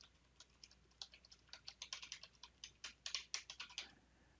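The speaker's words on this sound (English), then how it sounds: "Let me type that in for you." Rapid typing on a computer keyboard, a steady run of crisp clicks that grow louder and denser, close but quiet, with no talking.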